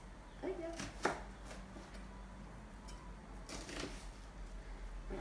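A knife slices sweet potato on a cutting board, giving a few soft, sparse cuts and taps, one slightly sharper, all faint against a quiet kitchen hiss.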